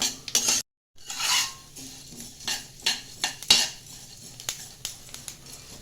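Black pepper and cumin dry-roasting in a pan for Brahmin-style sambar powder, with a spoon or spatula clinking and scraping against the metal in irregular bursts, close and fairly loud, with no talking.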